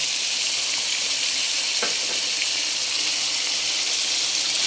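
Pork liver frying in a pan with oyster sauce, a dense, steady hiss of sizzling oil that fills the whole moment, with a faint scrape or two of stirring under it, close and continuous, no voices.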